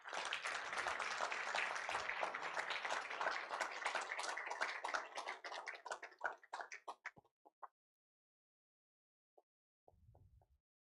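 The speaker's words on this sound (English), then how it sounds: "big round of applause" An audience at a mobile app launch event gives a big round of applause: dense, steady clapping for about six seconds that thins to a few scattered claps and then stops, with a faint stray sound near the end.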